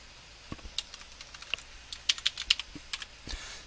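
Typing on a computer keyboard, a quick irregular patter of soft key clicks close by, growing busier midway, with no voices.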